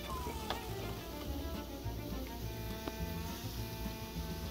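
Tomato paste sizzling in a hot pan for a meatball sub sauce, a steady close crackling fry with faint scraping of stirring, no voices.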